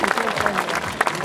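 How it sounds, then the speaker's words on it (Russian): Brief burst of crowd applause from an outdoor summer park concert audience, steady clapping throughout the short moment. "Ваши аплодисменты!"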